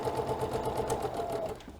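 Sewing machine stitching a quilt seam, a fast, even mechanical rattle running steadily for nearly two seconds, close and clear with no talking.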